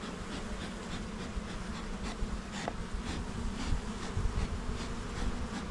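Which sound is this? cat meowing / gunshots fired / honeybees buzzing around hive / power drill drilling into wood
honeybees buzzing around hive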